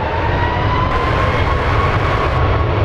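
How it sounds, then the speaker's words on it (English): United Airlines Boeing 737 jet at San Francisco International Airport, a loud, continuous roar of jet engines rumbling steadily throughout, with no voices. "Little exec jet and a 737 United Airlines. Getting a move on."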